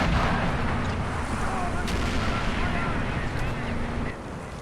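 Artillery fire from a howitzer in the World War II game Men of War: Assault Squad, a loud, dense rumble of continuous gunfire and explosions that drops off slightly near the end.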